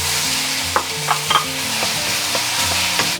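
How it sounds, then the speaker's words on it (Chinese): Minced garlic frying in a generous amount of cooking oil in a wok over low heat, a steady close sizzle with occasional soft stirring scrapes and taps, no voices. "我们先来炸一个蒜头酥，锅里面倒多一点的食用油"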